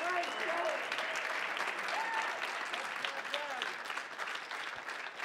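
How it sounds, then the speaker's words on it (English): Steady applause from a crowd at a fighting game tournament fills the whole stretch, a dense patter of clapping with faint voices mixed in. "We're going to need two rounds of applause."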